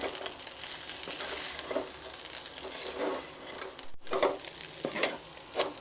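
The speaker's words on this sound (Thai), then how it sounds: "ใครชอบแห้งก็คั่วไปให้แห้ง ถ้าใครไม่ชอบแห้งมากก็ คั่วพอประมาณ" Minced catfish for larb dry-roasting in a pan, a continuous low sizzle with repeated scraping stirs of the spatula, close and fairly quiet with no talking.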